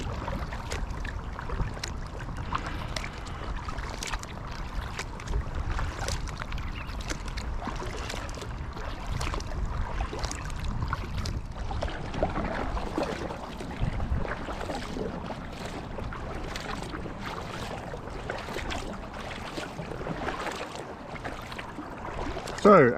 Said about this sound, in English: I am paddling the Rockhopper and I've got my touring paddles.